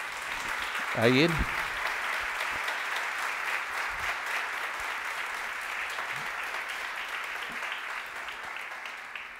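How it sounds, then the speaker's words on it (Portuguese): A church congregation breaks into sustained applause, a dense steady clapping that carries on for several seconds, while a voice calls out briefly near the start. "Dê para Jesus uma salva de palmas."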